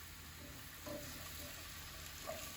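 Onions for japchae fry in a pan beside other vegetables, giving a soft, steady sizzle with faint clinks of a utensil, quiet and alone.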